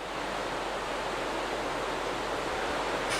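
Water rushes in a loud, continuous broadband torrent from the sound suppression system on a Starship launch pad, steady and unbroken for the whole stretch.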